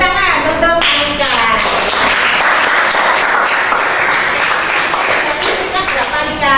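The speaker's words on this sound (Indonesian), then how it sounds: "Oke, tepuk tangan untuk Anita." Loud, dense applause from a class of students cheering on a classmate, steady throughout with children's voices calling out over the clapping.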